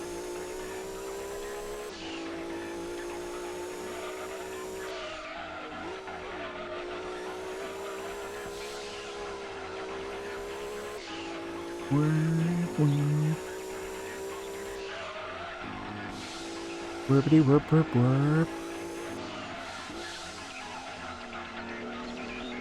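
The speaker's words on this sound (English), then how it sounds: "is this engine sound a V6?" Racing car engine from the Gran Turismo 2 video game, a steady droning whine that shifts pitch with gear changes, heard under someone talking, with two short bursts of tire squeal or impact noise.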